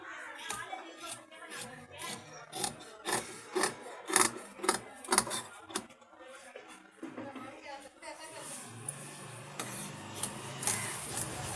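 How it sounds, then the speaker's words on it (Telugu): Scissors snip dress fabric while shaping a two-inch round neck, giving repeated sharp crisp cuts in quick bursts close by, with a softer stretch of rustling near the end. "ఒకసారి చూడండి, కటింగ్ చేస్తున్నాను."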